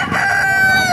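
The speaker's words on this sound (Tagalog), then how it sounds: "Laking manok ito mga kamaster." A rooster at a crowded Baliuag tyangge poultry market crows loudly and close, one sustained harsh call filling the moment with no talk over it.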